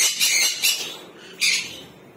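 Harsh, shrill squawks from green-cheeked conures in an aviary come in three loud bursts, close by, with quieter chatter between them.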